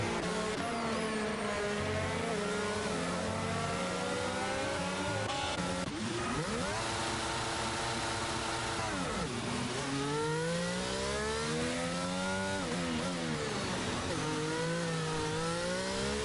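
Formula 1 car engines race through the Singapore Grand Prix in the F1 22 video game, loud continuous high-pitched revving with repeated rising and falling gear shifts, several cars overlapping.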